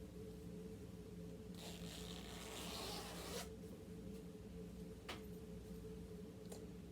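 A zipper that will not separate at the bottom is handled up close, producing a quiet mechanical rasp and a burst of scratchy rubbing, followed by a few sharp ticks over a low steady background hum.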